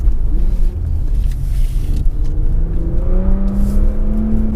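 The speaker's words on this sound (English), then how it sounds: "It really does sound good with that optional exhaust." A car engine rises steadily in pitch as it revs, a deep, throaty exhaust drone rumbling loudly and continuously throughout.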